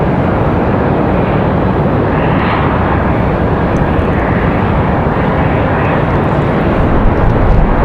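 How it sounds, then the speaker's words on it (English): An Airbus A320 airliner in plain white livery roars steadily at Raleigh-Durham airport on a windy day, a loud, continuous broadband engine rumble sustained throughout without talk. "So it was an A320. It was just a white one."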